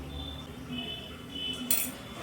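A spoon gives a single brief, faint clink near the end while salt is added to marinating katla fish heads, over a quiet kitchen background.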